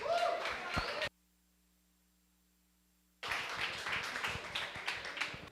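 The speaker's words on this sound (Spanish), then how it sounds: "recibámoslo con fuertes aplausos" Audience applause welcoming a speaker at a forum on globalization, a roomful of clapping that cuts out into near silence mid-way and then resumes, moderately loud and dense.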